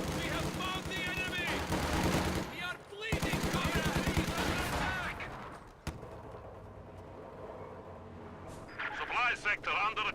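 Bursts of MG42 machine gun fire in a World War II strategy video game, rapid rattling volleys mixed with explosions and battle noise, loud and dense throughout, with a commentator speaking over the action.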